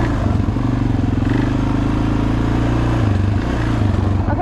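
A quad ATV engine revving hard while being ridden gives a loud, close, steady drone with rough mechanical clatter throughout.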